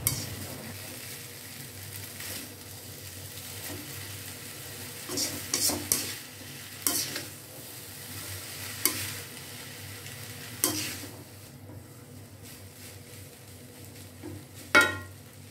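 Food with sweet soy sauce sizzles steadily in a wok while a utensil scrapes and clinks through it in several sharp strokes, close by.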